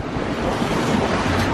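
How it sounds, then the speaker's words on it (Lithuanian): Sea waves wash and surge around a sailboat on a passage between Gotland and Klaipėda as strong wind buffets the microphone in a steady, loud roar. "Bangos ir jau pradeda darytis."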